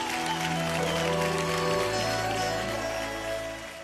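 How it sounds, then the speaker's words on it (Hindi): Studio audience applause on the Dance India Dance Super Moms stage show, a loud burst of clapping layered over steady background music that eases slightly near the end. "बस जोरदार तालियां आ जाए।"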